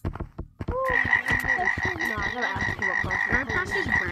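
A frog in the video game Gorilla Tag croaks in a steady run of rapid, ringing calls, fairly loud and close, continuing without a break after a brief burst of rustling at the start.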